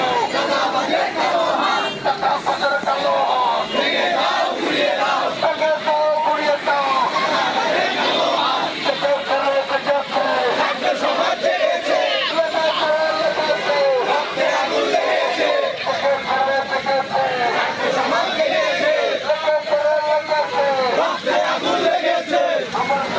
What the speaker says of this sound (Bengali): স্লোগান দিচ্ছেন ফুটপাতে চাঁদাবাজির বিরুদ্ধে তারা